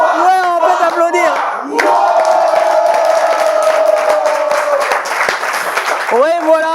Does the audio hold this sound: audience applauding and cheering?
yes